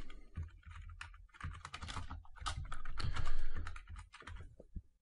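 Rapid, irregular clatter of keys on a computer keyboard while coding a program in C, close and fairly loud, with bursts and brief pauses and no voice over it.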